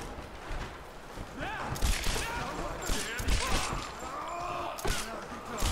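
Gunfire in the video game Tomb Raider, with scattered shots and impacts mixed into busy game sounds and music, heard under a voice talking.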